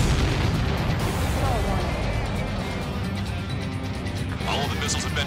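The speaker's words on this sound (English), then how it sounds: "All of the missiles have been destroyed." Missiles blow up in the Ace Combat 7 combat flight video game as a dense, continuous wash of booming blasts and roaring rumble, loud and sustained, with voices in the mix.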